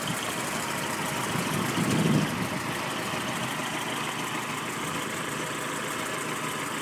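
A 1913 Ford Model T engine idles steadily close by, a continuous rough mechanical rumble with a brief swell partway through and no voices.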